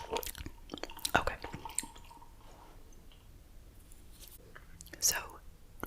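Whispered close-mic chewing of Airheads Blue Raspberry taffy candy, with soft wet squishes and clicks, a few sharp louder smacks near the start and end, and quiet whispering throughout.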